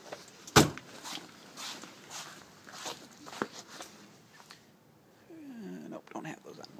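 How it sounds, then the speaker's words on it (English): A car door shuts with a single sharp thud on an electric-converted Alfa Romeo 164, followed by faint shuffling and quiet movement in a calm setting. "Close the door."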